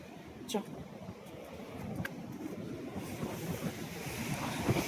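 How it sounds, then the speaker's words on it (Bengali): Waves wash against the shore at Digha beach near the river mouth, a low rolling surge under gusty wind noise that builds toward the end, with a few faint voices in the background. "জল এসে ধাক্কা দিচ্ছে"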